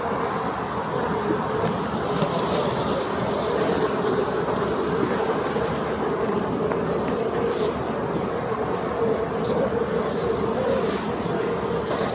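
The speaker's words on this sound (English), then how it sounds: "there's all these bees coming in with this like dark green pollen" Steady, dense buzzing of many honey bees at close range at a hive on a London farm, a continuous low hum that never lets up.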